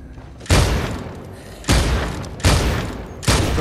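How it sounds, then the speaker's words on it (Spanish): Revolver gunshots in the video game Dead Island 2: four loud, booming shots with heavy decaying tails, irregularly spaced about a second apart, with no talk between them. "¿Qué os parece el revólver? Pega unos tiros que los deja seco"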